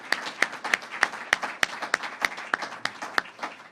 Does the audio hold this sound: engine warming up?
no